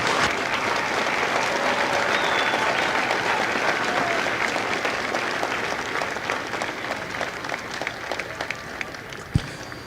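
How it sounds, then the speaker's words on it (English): Audience applause at a Marine Corps recruit graduation ceremony at MCRD San Diego: a large outdoor crowd claps steadily for ten seconds, thinning slightly near the end with a few whoops and a single thump. "please join me in another round of applause for the company staff of Company L"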